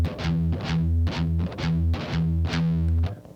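A distorted electric guitar plays a triplet riff, with open E pedal tones pulsing in a steady, even rhythm between the fretted notes, clear and alone.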